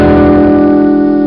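A single guitar chord strummed upward with a pick rings out loud and sustained on its own for just over a second.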